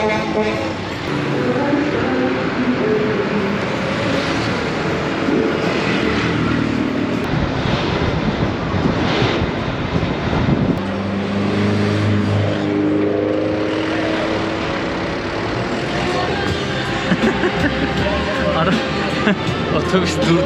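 A Guatemalan chicken bus speeds along a road with a loud, continuous engine roar and rushing wind that shifts in pitch as it drives, while a person talks over it.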